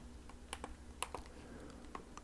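Buttons on a Steam Deck handheld console are pressed close up, a series of crisp, quiet plastic clicks in an irregular rhythm, some doubled, over a faint steady hum.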